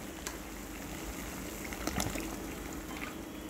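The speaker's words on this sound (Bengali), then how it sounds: "এখানে দেখতে পাচ্ছেন যেমন কি জলটা টকবক হয়ে বয়েল হয়ে আসছে" Water rolling at a steady boil in a pot for lemon rice, a continuous soft bubbling and gurgling with a few faint clinks, close and heard alone.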